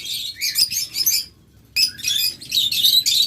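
Lovebirds in a bird shop chirping loudly in dense, overlapping bursts of high tweets, with a short quiet gap in the middle before the chatter resumes.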